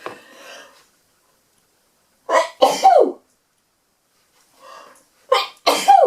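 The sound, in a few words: sneeze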